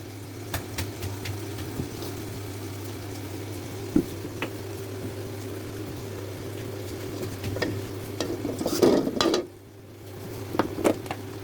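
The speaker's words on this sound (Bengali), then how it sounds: "কড়াইয়ের মধ্যে তেল দিয়ে দিলাম।" Oil heating in a wok on a home stove, with a low steady hum and faint crackle, a few scattered clicks and a brief louder sizzling burst near the end.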